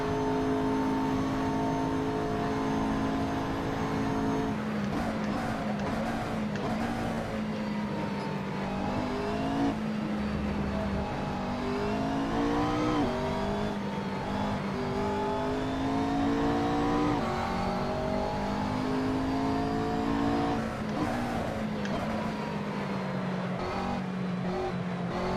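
Race car accelerating out of a corner in a racing video game, with a continuous loud engine drone rising and falling in pitch through gear changes over about 25 seconds.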